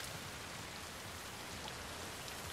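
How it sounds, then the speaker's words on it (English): Steady rain falls in the video game The Last of Us Part II, a dense, even hiss of drops on surfaces that holds at a constant level throughout, with no voices over it. "I think I like being in the rain most of all in this game."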